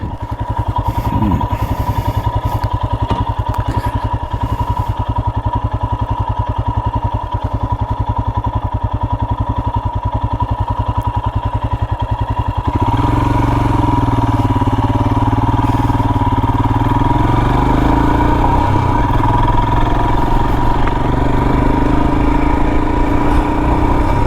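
A 2022 Royal Enfield Himalayan motorcycle is ridden on mountain roads, its single-cylinder engine thumping in a steady, loud drone that shifts pitch midway as the rider changes speed, heavy wind rumble mixed in throughout.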